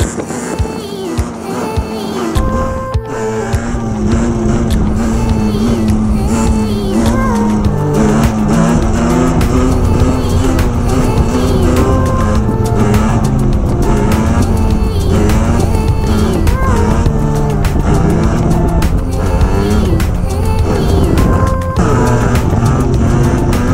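A moped engine revs hard and continuously while the rider pulls wheelies, a loud, buzzing, fluctuating drone rising and falling in pitch with throttle changes, close and unbroken throughout.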